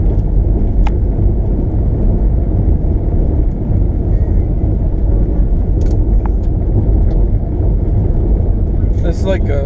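A car drives off-road through the woods on Buck Hill, its engine and tires making a loud, continuous rumble with a few sharp knocks and clicks from the rough ground.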